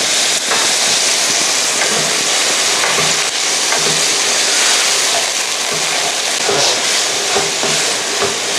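A tofu stir-fry seasoning mixture with carrot, corn and soup stock sizzles loudly in a pan while being stirred, a constant bright frying hiss with scattered scraping clicks of the utensil.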